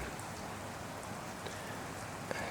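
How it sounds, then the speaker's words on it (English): Steady rain falling outdoors, a dense even hiss with occasional faint drip taps, moderate and alone with no voices. "rain"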